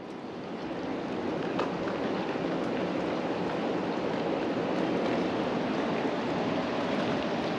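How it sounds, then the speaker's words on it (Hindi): Water rushes at the mouth of the Gaumukh glacier, where the Bhagirathi river begins, as a continuous loud roar with faint ticks of drops falling from above mixed in. "प्लस जो बूंदें गिर रही हैं ऊपर से वो भी सुनाई दे रही है।"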